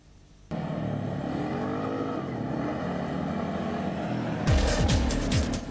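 A 2009 Kymco quad ATV engine drones steadily at close range on a dirt course, a continuous rough motor hum that rises into a louder revving burst near the end.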